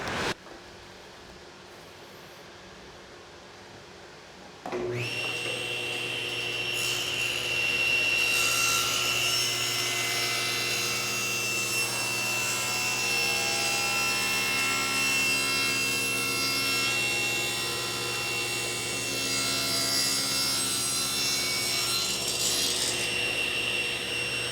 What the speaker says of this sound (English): And we'll turn on the dust collector.